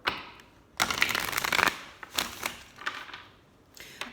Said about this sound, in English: Let's pull some cards here,